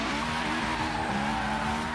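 A turbocharged Honda S2000 drifting in Forza Horizon 3 gives a steady, continuous tire squeal over a loud engine drone, held without a break.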